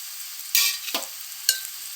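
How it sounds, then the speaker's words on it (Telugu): Turmeric and chili powder being stirred into pumpkin stew in a pan: a few short scraping strokes over a steady sizzle, close and fairly quiet, with no voices. "బాగా కలపాలండి"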